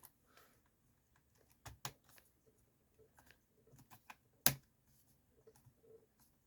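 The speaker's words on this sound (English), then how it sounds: "just had to double check myself if the keyboard is working" Scattered keystrokes on an Acer laptop keyboard salvaged from a dumpster and just reassembled, sparse close clicks and taps with a few louder key hits in a quiet room.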